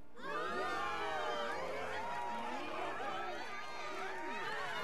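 Large crowd cheering in The Legend of Zelda: Tears of the Kingdom: many overlapping voices whoop and shout in a sustained, swelling roar that holds steady for several seconds.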